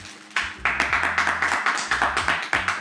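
Studio audience clapping in a French comedy show, a steady run of hand claps that starts abruptly and keeps going at a moderate, even level with no talk over it.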